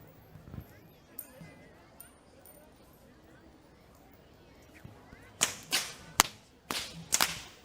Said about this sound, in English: Walking up front with the sound of thundering whips piercing through the skies are the whip crackers